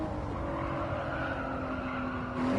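Car engine in Gran Turismo 7 holding a steady, fairly loud racing drone, with a sustained tonal whine that lifts slightly near the end as the revs climb.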